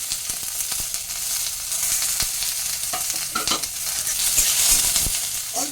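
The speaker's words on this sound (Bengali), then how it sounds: "এটা একটু হালকা ভাজা ভাজা হবে কারি পাতাটাও একটু হালকা ভাজা হবে" Oil sizzles steadily in a pan as onion, tomato and curry leaves fry, with occasional scrapes and stirring clatters over the constant hiss.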